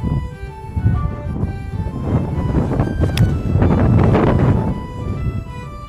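Gusty wind buffeting the microphone outdoors on the Royal Dornoch golf course, a low rumbling roar that rises and falls in strength throughout.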